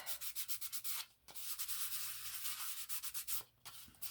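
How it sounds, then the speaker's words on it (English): Sandpaper rubbed by hand against a surface being roughed up for gluing, a close, steady scratchy rasp in quick back-and-forth strokes with a couple of brief pauses. "I'm going to rough this up. Good old sandpaper"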